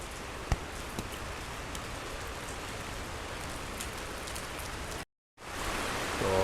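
Heavy rain falls at Masjid Nabawi in Madinah, heard from under a roof as a steady, dense hiss with a few louder drips, cut briefly by a short silent gap before resuming.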